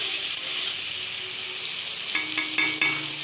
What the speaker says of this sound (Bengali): লাল লাল করে ভেজে নেব, কালার চেঞ্জ হয়ে যাবে চিংড়ি।